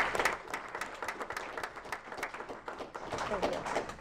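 An audience at a school district meeting gives a round of applause for the school staff, a steady patter of clapping lasting several seconds at moderate, somewhat distant level in a meeting room.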